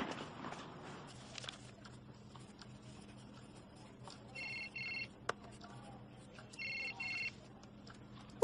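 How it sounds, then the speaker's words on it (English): A telephone rings in a school setting, two short bursts of electronic trilling a couple of seconds apart over quiet room tone, fairly clear and close, with no one speaking. "Whose phone is that?"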